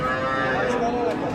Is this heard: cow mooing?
yes